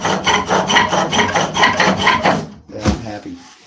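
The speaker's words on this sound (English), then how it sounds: "Cool thing about a rasp is it will cut both ways" A rasp files a wood workpiece turning on a spring pole lathe, giving about ten quick rhythmic scraping strokes close up, then a short pause and one more stroke.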